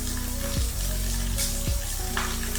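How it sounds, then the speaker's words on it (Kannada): Grated medium onion frying in a pan over medium flame, a steady broadband sizzle with a low background hum and occasional stirring scrapes, no talking. "ನಾನಿಲ್ಲಿ ಒಂದು ಮೀಡಿಯಮ್ ಸೈಜ್ ಆನಿಯನನ್ನು ಗ್ರೇಟ್ ಮಾಡಿ ಹಾಕ್ತಾ ಇದ್ದೀನಿ ರೀ ನೀವು ಪೇಸ್ಟನ್ನು ಹಾಕ್ಬೋದು ಇದನ್ನ ಈಗ ಚೆನ್ನಾಗಿ ಫ್ರೈ ಮಾಡೋಣ ರೀ"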